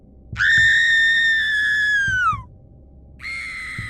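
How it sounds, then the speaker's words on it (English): A woman's harrowing scream from beyond a grass line at a haunted house site: one loud, sustained wailing cry that slides downward and breaks off, then a second cry begins after a short pause, with no talking. "She described it as a woman screaming."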